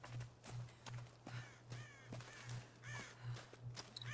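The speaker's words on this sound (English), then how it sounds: "There's a bird. Kill it." Crows caw repeatedly in the Tomb Raider video game, their harsh calls rising and falling against a pulsing low drone and faint rhythmic footsteps, without any talking.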